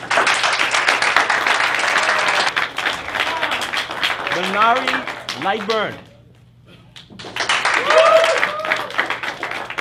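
A studio audience on a youth-language talk show applauds a guest with a full burst of clapping, then a voice speaks over a thinner patter before a second loud round of applause rises.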